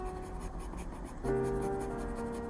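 Pencil scratching steadily across paper while coloring the eye area of an anime drawing, a soft continuous rasp that grows a little louder partway through, with no talking.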